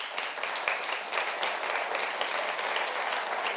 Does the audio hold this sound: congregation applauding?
yes